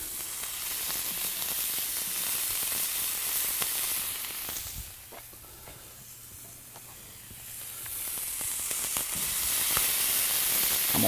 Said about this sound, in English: Gonna go ahead and brown this bacon. Gonna cook these wieners.